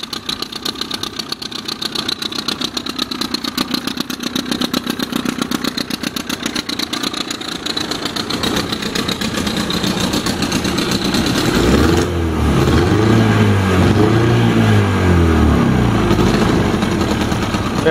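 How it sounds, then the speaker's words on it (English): Outboard motor on a 1965 Whaler boat running steadily at idle with a rapid, even putter, then revving up around the midpoint into a louder, rising and falling engine drone, close by. "it's a good running motor"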